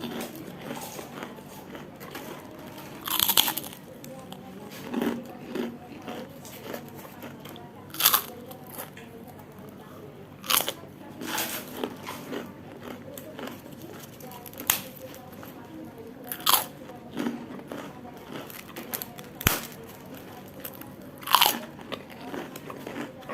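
Crunchy Palembang snack being bitten and chewed close up, with sharp crunches scattered irregularly over the stretch amid quieter chewing.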